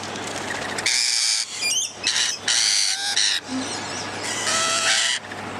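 Lorikeets squawk loudly and harshly up close while being hand-fed at Surfers Paradise, in repeated overlapping bursts with brief chirps between.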